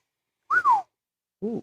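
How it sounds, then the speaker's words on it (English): A hand whistle is blown twice: a loud, clear rising-and-falling tone of about a third of a second, then after a short pause a shorter, lower, breathier blast, with silence around both. "Got a whistle and everything."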